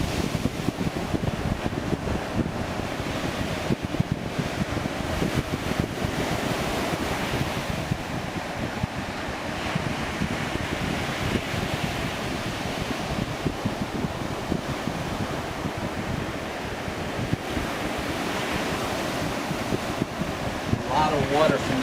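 Ocean waves break at a Mexican surf point, a continuous rolling roar of surf with wind buffeting the microphone throughout.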